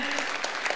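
Audience applause at a church community worship service, a brief burst of dense clapping from a crowd, steady and moderately loud throughout.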